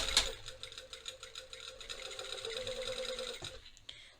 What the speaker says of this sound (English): I'm just going to sew all the way around to the other side